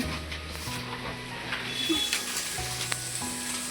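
Papad frying in hot oil in a home kitchen, a close, continuous sizzle and crackle with faint stirring, no talking.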